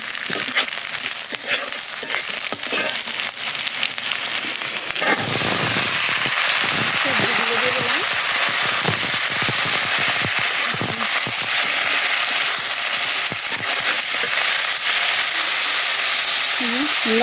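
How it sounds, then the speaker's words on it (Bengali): Mixed vegetables dropped into hot oil in a home kitchen, a sudden loud, steady hiss and crackle of frying that stays dense and close throughout. "এই তেল দিয়েছি, এখন সবজি দিয়ে দেব"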